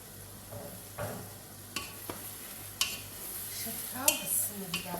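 Long green onion frying in a pan, a soft steady sizzle under repeated stirring scrapes and light clinks from a utensil, close up with no talking.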